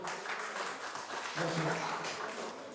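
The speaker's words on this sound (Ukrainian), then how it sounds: "Оплески, будь ласка" Applause rises at the opening of a security firm's office in Ivano-Frankivsk, a steady wash of clapping from a gathered crowd with people talking over it.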